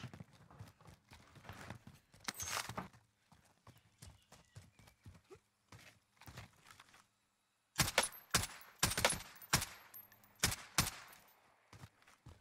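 An Oden rifle loaded with SP rounds fires in Warzone, with sharp loud shots in quick clusters and short bursts, separated by quieter stretches and one brief silence.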